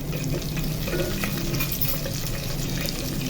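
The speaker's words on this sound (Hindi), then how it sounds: "अब इसमें शामिल करेंगे जीरा 1 टीस्पून, हल्का सा ब्राउन करेंगे" Cumin seeds with garlic fry in hot oil for aloo gobhi, giving a steady, close, continuous sizzle and crackle with no talk over it.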